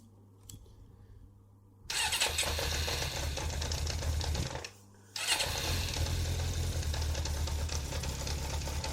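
A Kawasaki GPX 600R motorcycle cranks and fires up, then settles into a loud, rough idle. The engine briefly cuts out and restarts, then runs steadily close by with no voices.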